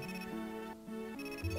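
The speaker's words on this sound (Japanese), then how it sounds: "電話だ。" A telephone rings inside a video game, an electronic ringtone of bright repeating tones that loops briefly and plays alone at moderate volume.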